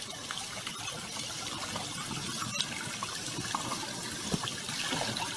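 Water trickles and splashes softly during children's backyard water play, a steady, close, low-level wash of small drips and pours with no talk.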